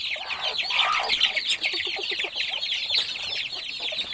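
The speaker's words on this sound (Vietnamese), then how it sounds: "mình cho gà ăn á" A flock of chickens clucks and chatters continuously while being fed at night, a dense close chorus of overlapping clucks with no talking.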